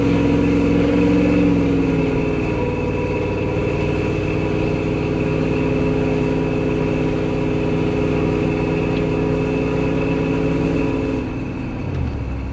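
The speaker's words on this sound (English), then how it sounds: "But I'll step on it up this hill here once I get over these bumps. So just accelerating there." Truck with a 460 EFI V8 engine accelerating uphill, a loud, steady, rumbling engine drone that holds close for about eleven seconds and then drops away near the end.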